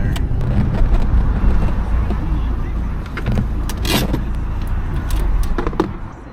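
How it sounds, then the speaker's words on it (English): A Miata rolls up to a gas station with a steady low engine and road rumble, interrupted by a few clicks and clunks as it comes to a stop near the pumps. "pulling up to the gas station, gonna get some fuel"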